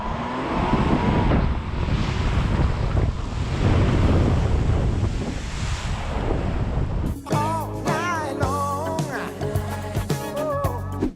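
A VW Amarok Aventura pickup wades through water, the first seven seconds a loud, continuous churn of splashing and wind-blown water. It breaks off abruptly into a different tonal passage.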